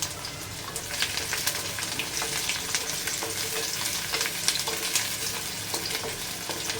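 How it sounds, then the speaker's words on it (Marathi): Garlic and two chillies sizzle and crackle steadily in hot oil at the start of a dill and fenugreek mixed vegetable dish, a busy, close frying hiss with small pops throughout. "आता आपण सुरुवातीला इथे लसूण टाकून घेऊया तेलामध्ये."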